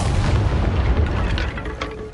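A Bombarda blasting spell cast in the Hogwarts Legacy game lands as a loud, deep booming explosion with a rumbling low end that fades slightly over a couple of seconds, with no voices.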